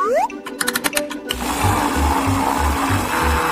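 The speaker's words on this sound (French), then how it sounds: "Je vais mixer le tout." A blender mixes vanilla ice cream with cheese, its motor switching on with a loud, dense whir that pulses rhythmically after a few short clicking and tonal sounds at the start.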